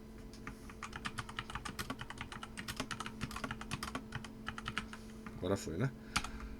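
Rapid clicking of a computer keyboard as someone types into a Google Docs document, with uneven bursts of keystrokes close by. A voice briefly speaks near the end.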